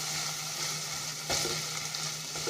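Boiled squid sizzling in a pan of caramelized garlic butter sauce, a steady, fairly quiet frying crackle with a brief stir-like disturbance midway.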